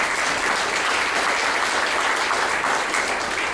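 A banquet audience breaks into sustained, dense applause, many hands clapping together in a steady roar that fills the room for several seconds.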